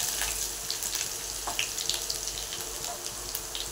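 Ingredients sautéing in a pan over a medium gas flame for schezwan fried rice, including ginger, giving a steady soft sizzle with scattered faint pops and crackles throughout.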